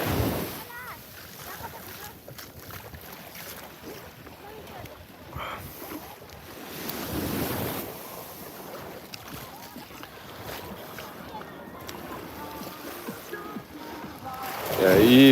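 Waves wash steadily onto a calm beach with wind buffeting the microphone, swelling louder near the end, while people chat over the surf throughout.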